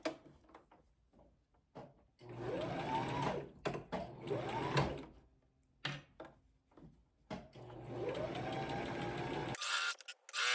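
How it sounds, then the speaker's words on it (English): A sewing machine running a straight stitch along the arm line of a sleeve; close whirring motor bursts in three runs separated by pauses, with small clicks and handling noises between. "I'm going to sew along the arm line. I use a straight stitch for this part."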